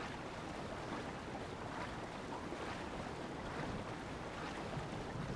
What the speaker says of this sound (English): Swimming down the water here.